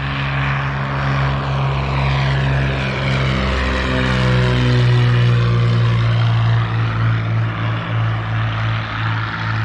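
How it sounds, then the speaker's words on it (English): A propeller airplane passes close overhead near an airport, its loud droning engine note sliding in pitch as it approaches and recedes over about ten seconds, with no voices. "Behind me are airplanes taking off and landing."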